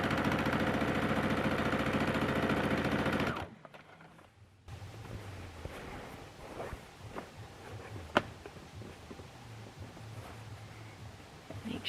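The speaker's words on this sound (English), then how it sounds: "start sewing the binding on" A sewing machine stitches binding onto a quilt with a fast, steady mechanical chatter that runs after a brief burst of louder noise and a pause.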